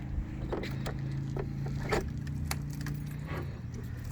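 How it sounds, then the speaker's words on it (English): Key jingling and clicking in the lock of a storage door on a 2004 Fleetwood Bayside Elite pop-up camper, a series of light, close metallic taps and rattles heard alone at low volume. "the key also opens this door"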